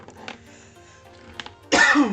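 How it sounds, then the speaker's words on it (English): A single harsh cough bursts out near the end, close and loud, after a quiet stretch with a few faint clicks and rustles. "Sorry for the coughs."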